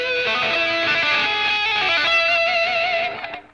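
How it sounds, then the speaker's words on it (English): A distorted electric guitar string is tapped with a finger. A bright, sustained tone rings on with steady ringing overtones, played alone and fairly loud before stopping and fading at the end. "Also, you can tap that with your forefinger or second finger."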